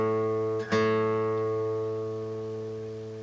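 The fifth string of a guitar in open D tuning is plucked once and rings out loud and sustained, then decays slowly; the note is heard alone.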